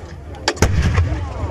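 A 120mm CARDOM 10 mortar mounted on a Piranha 5 armoured vehicle fires a shell during live firing, a single loud, sharp close blast followed by a rolling rumble.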